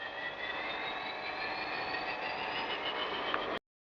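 A giant C-130 military transport plane flies overhead with a loud, steady engine drone and a gradually rising whine, then cuts off abruptly near the end.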